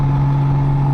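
A steady engine hum with a sustained drone sits at a fixed RPM on a motorcycle converted into a motor trike. It sounds loud and close, with no voices over it.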